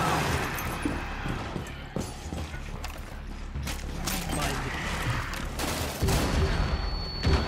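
Pistol fire during a tense firefight in Rainbow Six Extraction: several sharp shots and mechanical clacks amid dense game noise, with a louder burst near the end.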